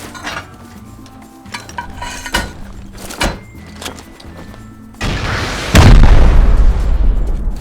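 Gunshots and explosions strike a car in the survival video game Rust, with several sharp cracking hits followed by a loud, sustained blast that swells and rumbles near and heavy.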